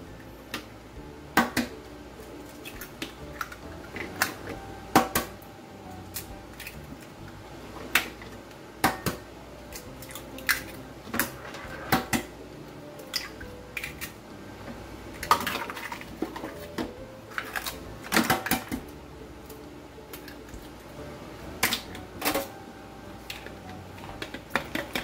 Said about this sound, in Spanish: Voy a batir mis huevos.